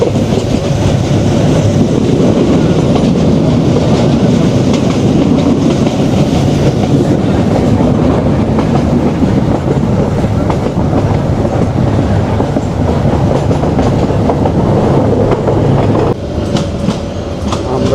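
Chattala Express passenger train running on rails near Narsingdi, a loud, steady rumble and clatter of wheels on track heard from on board, continuous throughout with no talk.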